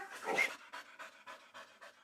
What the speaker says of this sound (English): Drugs that Jen's on a mission to find with sniffer dog Cooper.